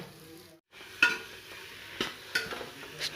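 Tomatoes sizzle in a hot pan for a South Indian dry silver fish curry while a spoon stirs, giving a steady fry hiss broken by a brief gap and several sharp scraping strokes, close and fairly loud.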